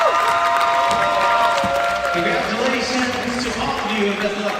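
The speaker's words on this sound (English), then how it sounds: "One more round of applause for our athletes" Audience at a high school college signing day ceremony claps and cheers for the athletes, a steady crowd roar with high excited shouts and whistles riding over it throughout.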